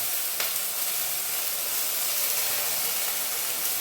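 Ivy gourd and sprouted green gram frying in a pan, a steady dense sizzle and hiss with no break and no voices.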